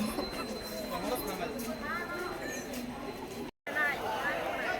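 A Virar–Dadar local train pulls into Dadar station, with a low rolling rumble and faint wheel squeal under nearby voices. The sound is fairly quiet and steady and cuts out briefly near the end.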